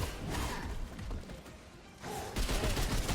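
Rifle gunfire in the video game Remnant 2: a short burst of sharp shots and impacts over a game soundscape, with a brief lull before more loud combat noise.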